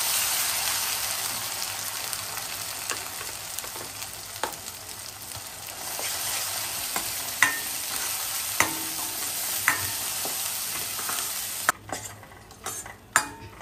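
Ground masala paste sizzles and fries in hot oil with red chili powder, a steady loud crackle while a spoon scrapes and stirs the pan in occasional sharp clinks, the sizzle dropping away near the end.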